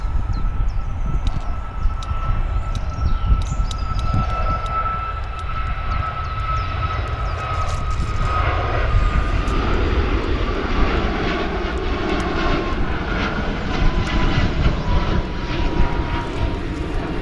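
Airliner engines roaring on approach to Manchester runway 23, a loud sustained whine and rumble that swells steadily as the aircraft passes close overhead, with no voices.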